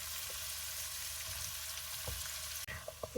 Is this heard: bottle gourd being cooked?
yes